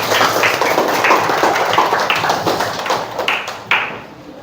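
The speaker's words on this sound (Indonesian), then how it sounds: "Terima kasih, boleh tepuk tangan." A class of students clapping loudly and steadily for a few seconds in a classroom, then fading out near the end.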